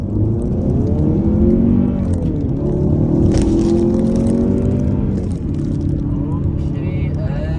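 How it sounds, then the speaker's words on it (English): A Jaecoo Omoda C9 2WD with an 8-speed gearbox launches hard from a standstill in sport mode, its engine revving loud and close and climbing in pitch through the gears while a driver talks over it. "And then I'm gonna launch the car."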